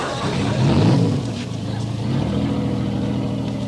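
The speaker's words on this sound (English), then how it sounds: "Start your engine." A navy patrol boat's engine starts up and settles into a loud, steady motor rumble, with a rising note partway through and no talking.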